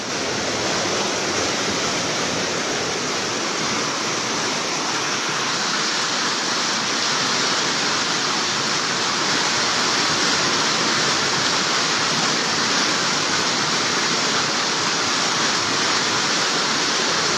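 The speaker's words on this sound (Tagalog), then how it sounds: "Nasa 7 oras na po itong baha na to mula alas 9." Floodwater rushes loudly and steadily through Bonbon, Libon, Albay after seven hours of rising flood, a dense unbroken roar like a waterfall with no pause throughout.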